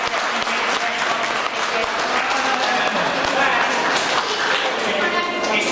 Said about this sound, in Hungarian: és tapsoljuk meg egy-egy csapatát